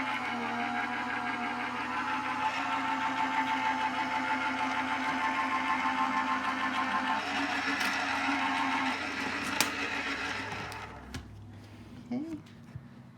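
A die-cutting machine feeds a die through card for a folded card craft, giving a steady, close mechanical whir and rumble for about eleven seconds that then stops, followed by a few small clicks and handling noises.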